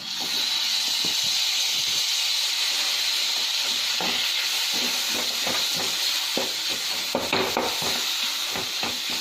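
Tomatoes cook in a hot pan over fried spices for an egg curry, with a steady loud hiss of sizzle and steam broken by scattered scraping taps from stirring, and no voices.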